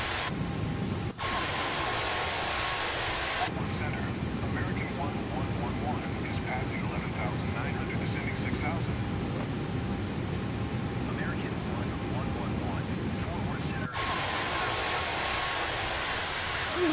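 The Spruce Goose flying boat in a flight simulator game drones with a constant, heavy propeller-engine roar over Waikiki Beach while voices speak briefly over it.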